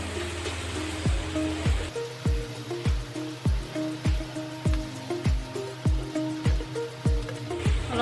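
Rice for egg fried rice fries in a hot pan with vinegar and chilli sauce, giving a steady sizzle broken by regular, evenly spaced thumps of stirring, with no talk.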